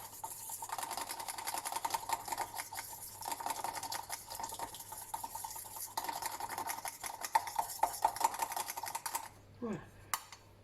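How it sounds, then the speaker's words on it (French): A soap chantilly mixture is whisked in a bowl with quick, steady tapping strokes at close range, fairly soft, ending in a few scraping knocks. "je mélange déjà un petit peu"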